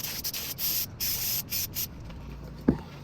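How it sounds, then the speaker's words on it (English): Brake cleaner from an aerosol can is sprayed onto a part during work on a Honda Integra. Several close, hissing spray bursts follow one another for about two seconds, then a single short knock. "I'll spray it down with brake cleaner."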